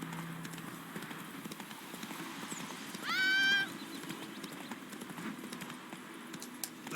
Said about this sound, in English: Where are you, Roach? There you are. Come on, boy. Run